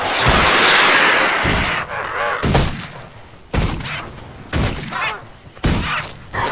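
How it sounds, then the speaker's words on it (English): Pistol shots from the Thief's Vital Shot attack in Guild Wars 2 fire repeatedly, about one a second, as sharp loud cracks over a busy game soundscape, with a whooshing rush at the start. "Vital Shot, it's a normal range attack, but it gives a little bleed"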